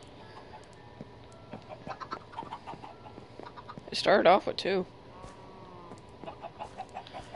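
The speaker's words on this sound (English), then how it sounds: "I now have 10 chickens." Chickens in the Minecraft video game cluck in short, scattered bursts across the whole stretch, with someone talking briefly in the middle over the game clucks.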